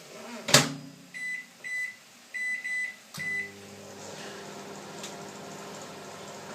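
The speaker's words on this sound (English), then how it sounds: "in the steam bag, straight in the microwave" A microwave oven heating a steam bag of broccoli, with a door thump, a run of short beeps, then a low steady hum that fades.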